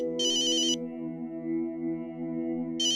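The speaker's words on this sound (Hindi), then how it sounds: "अंकल ओझा आपका फोन है" A telephone rings in two short electronic bursts, one near the start and another beginning at the end, over a steady low hum, in a late-night scene from a Hindi family comedy.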